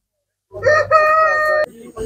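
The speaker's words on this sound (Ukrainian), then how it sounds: "Шикарні, шикарні кури." A rooster of a giant breed crows once at a winter animal show in Kolomyia, Ukraine, a loud close cock-a-doodle-doo with a rising start and a long held note, then a brief cluck.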